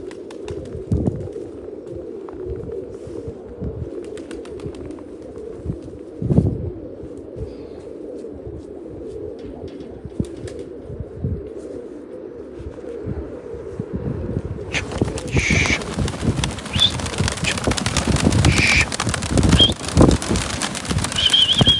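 Pigeons in Myrnohrad, Donetsk Oblast, coo repeatedly at close range, soft throaty calls over a low background murmur, with the sound growing busier and louder in the second half.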